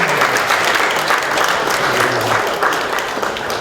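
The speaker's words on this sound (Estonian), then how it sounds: "Jah, anname aplausi." A church congregation at a Pentecostal service in Tallinn bursts into dense, steady applause, many hands clapping together without pause throughout.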